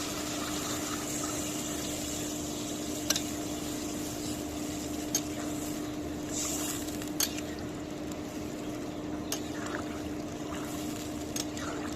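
Water goes into a pangas fish curry after the masala is fried, giving a continuous low pouring and bubbling wash with a faint sizzle and occasional small clinks, and no one speaking.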